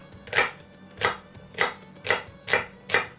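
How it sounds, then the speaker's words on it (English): Celery stalks being chopped with a knife on a cutting board, six evenly spaced crisp thuds at a steady, unhurried rhythm, close and clear with no talking. "This is an easy chop"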